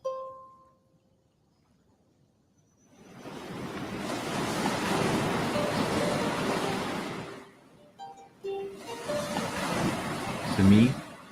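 Ocean waves on the shore, with two long surges of broad rushing surf separated by a brief lull, loud and close, and a voice briefly heard near the end.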